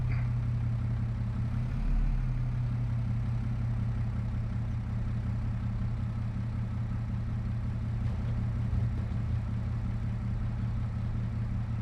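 A Massey Ferguson tractor in Farming Simulator 22 idles and backs up with a steady, low engine drone that holds close and loud throughout, rising briefly in pitch near the start.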